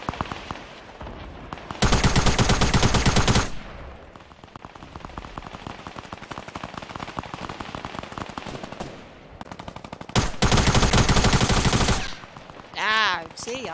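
Gunfire in Fortnite Battle Royale: dense, loud machine-gun bursts about two seconds long, then steady rapid crackling shots, another long loud burst, and a voice briefly heard at the end.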